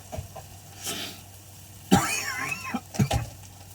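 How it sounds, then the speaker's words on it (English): A couple of sharp, raspy coughs from a nearby person, with quieter throaty sounds between them and faint background hum. "One of those like coughs that's not just like a, oh, I had a tickle in my throat."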